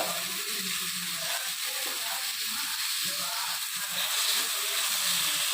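Chopped tomatoes fry with onion and ginger garlic paste in a pan, giving a continuous even sizzle and hiss at moderate volume, with faint stirring underneath.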